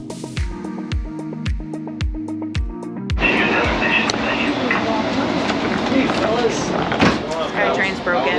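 An airport train gives a series of rhythmic electronic chimes or clicks, then a louder steady rumble of the moving cars with clattering; a person talks over it.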